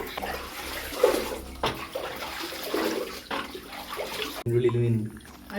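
Water is scooped and poured out of a catfish tank, with splashing and sloshing close by, followed by a short gurgling pour near the end.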